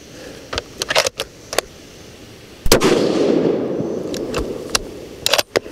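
A Sig Cross .308 rifle fires factory ammunition outdoors. A loud sharp report is followed by a rumbling tail, with scattered clicks and handling knocks before and after. No one speaks.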